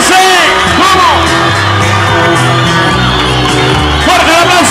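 A live concert crowd in Colombia whoops, shouts and cheers loudly and continuously, a dense roar of voices rising in bursts with scattered yells standing out throughout.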